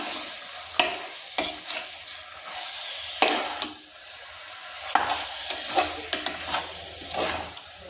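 Chicken biryani mixture with seeraga samba rice is stirred in a hot pot, sizzling throughout with several sharp spoon scrapes and bumps at irregular intervals, close, no talking.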